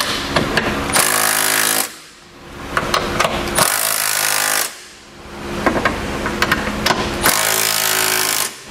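A power tool snugs down the bolts of a Curt trailer hitch receiver on a 2016 vehicle in three loud, close bursts of rapid hammering, each about a second long, separated by short pauses.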